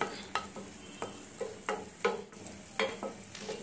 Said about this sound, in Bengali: মশলা আমি এবার কষিয়ে নিচ্ছি।